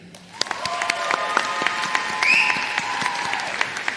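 Loud, sustained applause from a commencement audience for graduating undergraduate students, a dense wash of clapping with some crowd noise and a faint whistle or cheer rising briefly near the middle.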